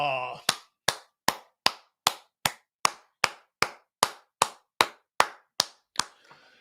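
About fifteen sharp, evenly spaced hand claps ring out in a sports talk radio studio, loud and close, opening right after a brief voice and trailing off at the end.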